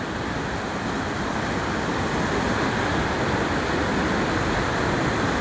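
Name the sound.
waterfall with fast-flowing water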